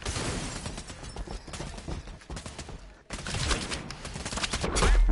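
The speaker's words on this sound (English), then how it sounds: "Not sure, follow the gunshots." Rapid bursts of video game gunfire crackle continuously, dense and rattling, with a brief dip before firing resumes louder toward the end; no clear talk.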